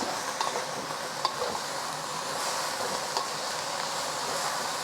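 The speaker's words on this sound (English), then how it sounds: "I'm going to add the stocky part of my vegetables. I'm going to let that cook for about a minute" Stalky vegetables stir-frying in a pan for Malaysian bee hoon goreng, a loud continuous sizzle with occasional sharp clinks of the spatula, no voices.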